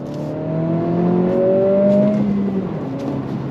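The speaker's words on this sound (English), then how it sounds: "from a slow roll, first gear on throttle, here we go" A 2025 Acura Integra A-Spec with a six-speed manual accelerates hard in first gear from a slow roll, its engine note rising steadily in pitch, loud and close, then easing off near the end.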